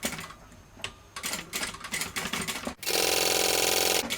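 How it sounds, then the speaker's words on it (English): A sewing machine stitches a quarter-inch seam on zipper tape for a bag, a few short stop-start bursts followed by a loud, fast continuous run up close. "I'm going to sew this 1/4 inch seam allowance."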